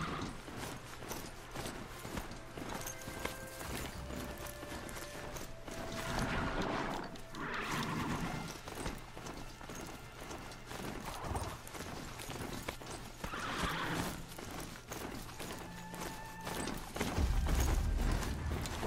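Hooves of a rideable machine mount in Horizon Zero Dawn clop in a steady galloping rhythm, moderately loud and continuous, with game music and effects underneath and occasional louder bursts.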